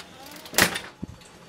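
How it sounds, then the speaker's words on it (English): A cruise ship cabin door slams shut once in a sharp, loud bang, followed by a short softer knock in a quiet corridor. "these doors on the cabins slam shut very loud"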